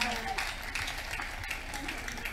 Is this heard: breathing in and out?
no